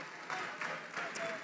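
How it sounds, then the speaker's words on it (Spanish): Church congregation applauds a group during a service, a soft, distant patter of clapping with a few faint voices mixed in. "Le damos un fuerte aplauso a esta zona preciosa."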